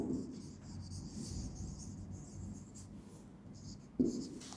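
Chalk or marker scratching across a classroom board in steady strokes, close and fairly quiet, with a brief louder tap near the end.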